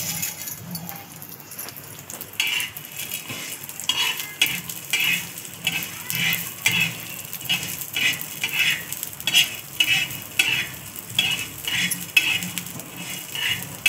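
Urad dal stir-roasted in a little oil in a pan for dosa chutney, with a steady sizzle and repeated scraping, rhythmic stirring strokes of a utensil against the pan, close and fairly loud throughout.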